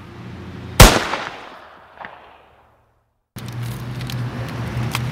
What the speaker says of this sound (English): Ryan, I think I shot the wrong guy.